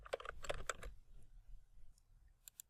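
Quick bursts of keystrokes on a computer keyboard, close and fairly quiet, then a pause and a few more taps near the end.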